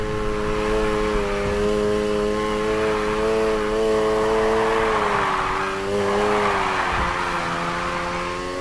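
Car engine in NFS Heat screams at full throttle through a drift, a sustained high rev with pitch wavering and dipping briefly near the end before surging again, loud and alone.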